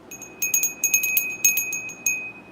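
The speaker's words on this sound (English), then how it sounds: "My little altar bell," A small altar bell rings in quick shaken bursts, a cluster of bright metallic tings that fade briefly between strikes, close and clear in a quiet room with no talking.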